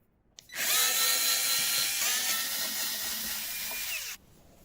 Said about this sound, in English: So now we can already loosen these two screws here.